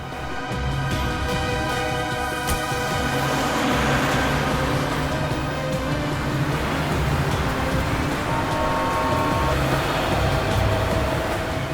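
A car pulls away and drives off in a steady, loud rolling rumble with a whine on top, continuous for about twelve seconds.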